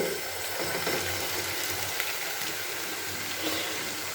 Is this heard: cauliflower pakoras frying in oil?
yes